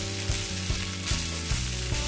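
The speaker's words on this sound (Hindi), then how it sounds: "एक या 2 मिनट के लिए हम इसको अच्छी तरह से सिकने देंगे" Already-boiled potatoes roasting in a pan for a dry fasting-style sabzi, a close steady sizzle broken by regular clanks of stirring, with no talking.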